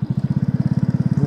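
A modified Munna Shapater motorbike fitted with a small airplane tyre runs close by, its engine thumping in a steady, rapid pulse at low pitch, alone and fairly loud.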